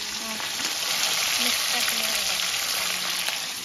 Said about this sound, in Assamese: ইফালে মাছ ভাজি আছে